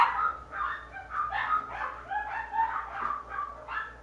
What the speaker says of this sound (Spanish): Si los perros se callan